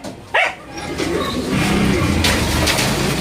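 Racing pigeons coo nearby in a loft as several birds return home together from a knockout race, with a soft rustling bed and a brief louder bump near the start.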